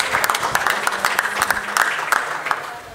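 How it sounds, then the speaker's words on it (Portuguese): Church congregation applauding during an Easter service, a dense burst of many hands clapping at a steady lively rhythm, loud and close, with some voices mixed in. "aplauda ao Senhor"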